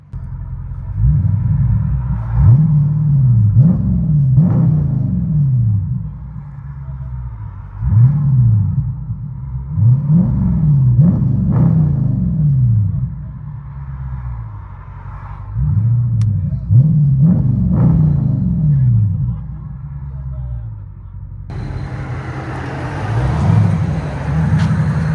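Deep, loud exhaust rumble from a 2021 Dodge Charger 392 Scat Pack with a Carven R-Series exhaust, heard from inside the cabin, pulsing in repeated rev swells with steady low drone between them and no talking.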